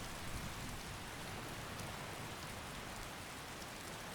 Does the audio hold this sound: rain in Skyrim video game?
yes